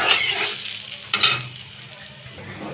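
Spices frying with ginger garlic paste in a pan for a prawn fry, a close sizzle with a spoon stirring and scraping, one sharp clatter partway through, and no talking.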